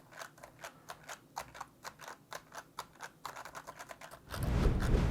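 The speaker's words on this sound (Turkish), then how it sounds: "Rastgele tuşlara basıyorum ve yeşil yananlar aynı anda basıldığını algıladığını gösteriyor ekranda." Random keys pressed on an ASUS ROG Strix Scope RX TKL Wireless Deluxe keyboard give crisp, close clicks in uneven bursts, then a low rumbling thump or handling noise takes over in the final second.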